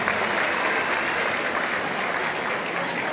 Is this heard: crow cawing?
no